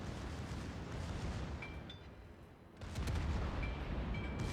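Secondary guns on the Japanese tier 6 battleship Mutsu fire in World of Warships: a dense, rumbling barrage of overlapping booms. It dips briefly, then swells louder again.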